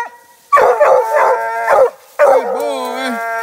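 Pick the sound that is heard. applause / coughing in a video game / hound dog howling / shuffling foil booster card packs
hound dog howling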